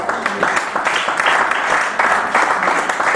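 A church congregation applauds together in steady, sustained clapping that fills the whole moment, dense and fairly close, with no talking over it.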